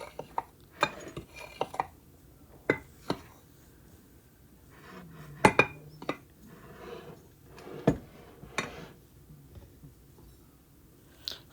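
Sourdough dough being mixed by hand in a bowl for homemade bread, heard as irregular clinks and knocks of utensil against the bowl with soft scraping between, close and sparse, with no talk.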